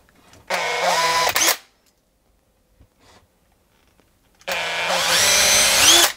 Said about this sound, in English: So I'm just starting the hole off like that, then turning my drill bit in line with the spindle.